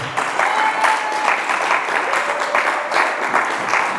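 A church congregation at a wedding breaks into sustained applause, a dense and even clatter of many hands filling the room at close range.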